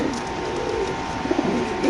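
Pigeons coo at Adnan Bhai's pigeon farm, a steady low murmur of several birds close by with a few louder throaty coos near the end, no voices.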